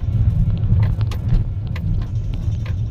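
A Ford EcoSport petrol drives over a bumpy road and large speed breakers, with a steady, loud low rumble of engine and road noise and occasional thumps from the suspension, and no one speaking.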